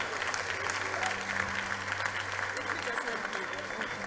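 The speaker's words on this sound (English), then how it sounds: "May we give her a round of applause once more." Audience applause for a top public-school learner at the 2023 matric results announcement, a steady wash of clapping throughout with speech and a sustained hum running underneath.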